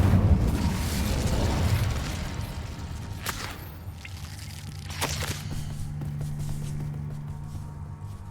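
An Incendio fire spell cast in a Hogwarts wizarding game, a loud low whooshing roar of flame that fades into sharp cracking bursts and softer crackles.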